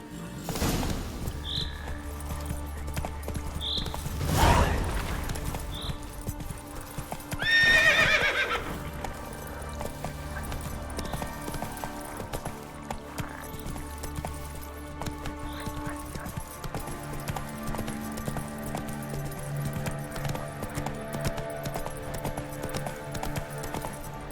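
A horse in The Witcher 3 gallops with steady clip-clop hoofbeats, letting out a couple of loud neighs early on, the hooves continuing evenly throughout over a quiet in-game backdrop.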